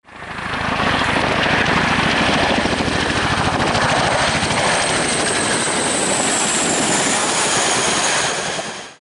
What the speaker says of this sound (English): Number 3, Boeing CH-47 Chinook, which was a heavy-lift workhorse.